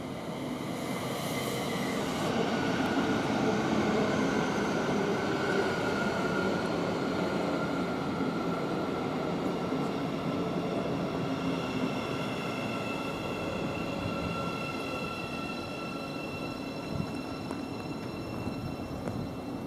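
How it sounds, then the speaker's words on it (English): A Class 717 electric multiple unit, number 717006, rolls into Potters Bar station on the East Coast Main Line, a loud, steady rumble of wheels on rail with faint brake squeal, continuous and close throughout. "we've got 717006 with a service to Moorgate from Welwyn Garden City"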